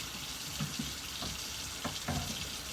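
A kitchen faucet runs in a steady, moderately loud hiss during cooking preparations, with a few soft knocks and splashes breaking through the stream.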